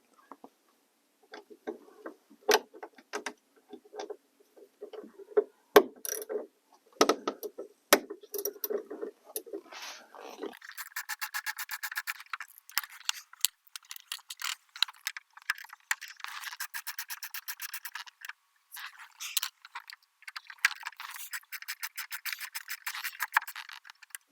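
A quarter-inch ratchet with an extension works loose the sunroof bolts on a Honda Civic, giving soft rapid clicking and rattling that grows denser and brighter midway, faint and close.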